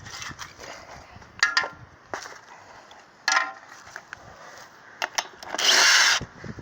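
A power tool, likely an impact wrench, removes a tire from a 1997 Ford F-350 4x4 during front wheel bearing work, sounding in a few short, loud bursts with quieter shop noise between.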